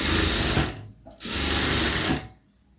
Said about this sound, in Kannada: ಅದಕ್ಕೋಸ್ಕರ ಈ ರೀತಿ ದೊಡ್ಡ ಹೊಲಿಗೆ ಮಾಡಿಕೊಂಡು ಸ್ಟಿಚ್ ಹಾಕಿ